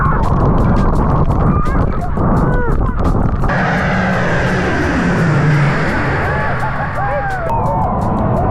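A low-flying airplane roars overhead above a crowded St Maarten beach, its loud engine rumble swelling and holding over excited voices and crowd noise.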